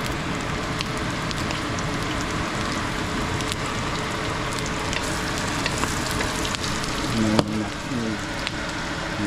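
Garlic frying in a pan as the base for ginisang talong, a Filipino eggplant sauté; a steady, dense sizzle runs throughout at a fairly even level, with no talk over it.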